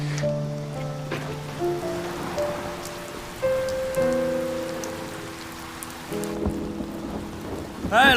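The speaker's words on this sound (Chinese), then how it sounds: "下这么大雨，该收摊了" Heavy rain falls at a street stall selling stinky tofu, a constant broadband wash of downpour with a swell near the end, partly overlaid by sustained melodic music.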